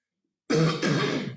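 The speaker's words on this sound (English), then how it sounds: "clear my throat." A single throat clearing after a brief silence, close and fairly loud, with two rough bursts in a row.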